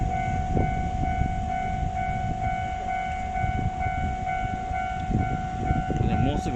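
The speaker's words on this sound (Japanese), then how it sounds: "これは普通電車じゃないかな。" Local train at a railroad crossing on the JR West Sanyo Line near Uozumi Station, with a steady ringing crossing bell tone over rumbling wheels and track noise, close and continuous throughout.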